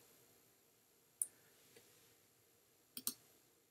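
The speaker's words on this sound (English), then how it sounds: "I'm now going to go ahead and click on Start Recorder" Sharp mouse clicks at a computer, one single click followed by a quick double click, close and distinct against near silence.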